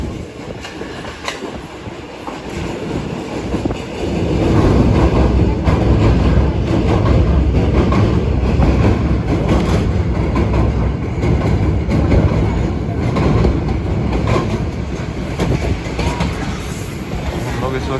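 A Ghouri Express passenger train between Faisalabad and Lahore rolls steadily along the tracks, a continuous loud rumble with rhythmic clatter of wheels, heard from inside the moving carriage.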